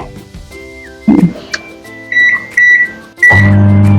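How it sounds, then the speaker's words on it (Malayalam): A door thuds shut, a few keypad beeps follow, then a microwave oven starts with a loud, steady electric hum while steaming food. "അത് ഞാൻ ഈ ഓവനിൽ വെച്ചൊന്ന് പുഴുങ്ങിയെടുക്കും"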